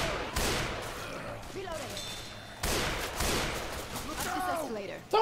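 Pistol and shotgun fire in the zombie shooter Left 4 Dead 2 comes as two loud, sharp blasts with echoing tails, separated by chirpy, busy game noise.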